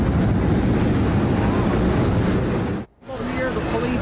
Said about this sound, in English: A huge explosion now raining debris on all of us.